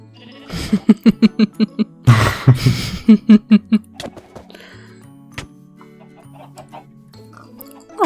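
Minecraft chickens clucking in loud rhythmic bursts of repeated clucks and squawks, close and clear, thinning out into scattered quieter game sounds.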